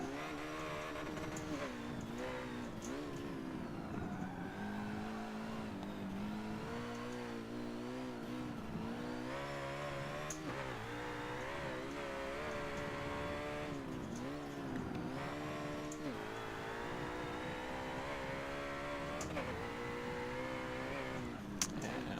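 A race car in Forza Motorsport 7 revs and accelerates through a lap, engine pitch rising and falling with downshifts and occasional tire squeal, continuous and steady in level.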